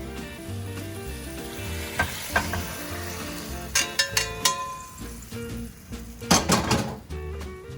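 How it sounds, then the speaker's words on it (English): Steak fajita vegetables sizzle and fry in a hot pan, with steady crackling under scattered scrapes and clinks of a utensil stirring against the pan, close and moderately loud, with no talking. "because it's gonna come back into the pan in just a minute to cook when the veggies are done"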